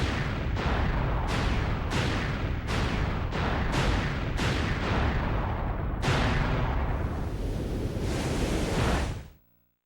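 Prison Island blowing up in Sonic Adventure 2: a rapid series of heavy booming blasts about every half second, merging into a continuous roaring rumble that cuts off abruptly, loud and dense with no talking.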